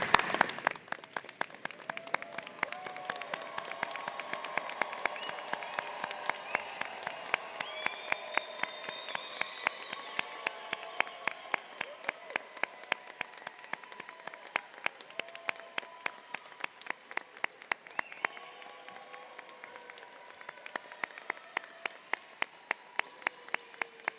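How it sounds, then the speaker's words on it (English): Standing ovation from family and friends at a business celebration: sustained crowd applause with dense clapping throughout, steady and fairly loud, swelling at moments and continuing without a break. "I think this moment merits a standing ovation"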